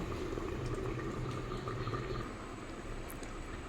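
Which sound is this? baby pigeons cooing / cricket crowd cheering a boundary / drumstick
drumstick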